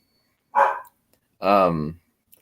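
A dog barks twice during a casual chat about horror films, two short, fairly loud barks about a second apart with quiet in between and no other sound in the room.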